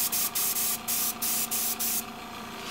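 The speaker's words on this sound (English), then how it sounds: "we're gonna put it in our airbrush and start the paintbrush process" An airbrush sprays paint onto 3D printed plastic in short, hissing bursts, about seven quick pulses close by, then settles into a softer continuous hiss.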